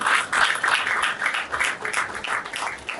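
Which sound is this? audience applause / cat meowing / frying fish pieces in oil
audience applause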